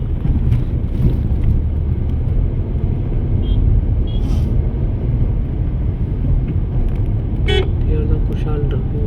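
Road traffic in Hebbal, Bangalore, a steady low rumble of vehicles with wind buffeting the microphone, a horn toot near the end, and people talking over it.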